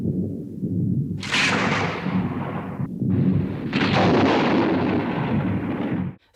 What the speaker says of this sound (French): on ajoute de faux éclairs avec du son